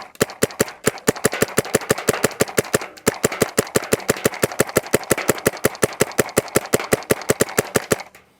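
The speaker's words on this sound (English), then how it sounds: "So we'll shoot some semi-auto." Empire D*Fender Elite paintball marker firing on semi-auto: a rapid, fairly even string of dozens of sharp, close, loud pops, with a short pause near the middle before the shots resume.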